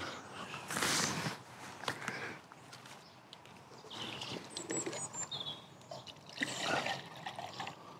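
Water trickles and splashes steadily into a Jetboil camping pot close by, with a few faint bird chirps in the background.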